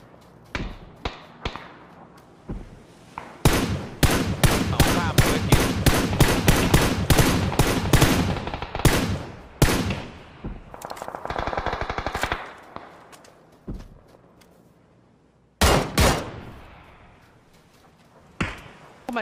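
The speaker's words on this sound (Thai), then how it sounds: "ทำไมกูได้ยินเสียงปืนด้านหลังเลยวะ" Rapid bursts of PUBG gunfire: long automatic volleys and scattered single shots, loud and close, with brief pauses between strings of fire.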